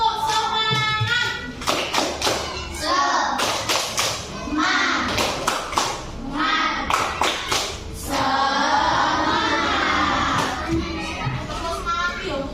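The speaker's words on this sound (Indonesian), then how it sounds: "Oke, kalau sudah sebelumnya tepuk semangat." Schoolchildren in a fifth-grade classroom clap out a rhythmic chant together, sharp bursts of hand claps in sets mixed with shouted voices, loud and close throughout.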